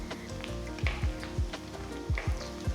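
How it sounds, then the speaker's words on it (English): Sliced onions with chopped garlic, ginger and slit green chilies sautéing in a pan for a chicken stew, a soft steady sizzle broken by a few low scraping stirs of the spoon; no one talks. "Now add about 2 thinly sliced onions and saute for about 2 to 3 minutes."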